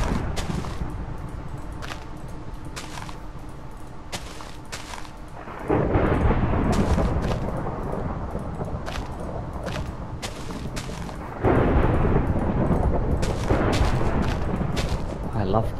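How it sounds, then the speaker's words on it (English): Thunder rolls through a storm in the survival game Terrafirmacraft, a steady low rumble that swells into louder booming crashes at two points, with a person talking over it. "I love the thunder. It's quite a lot of it."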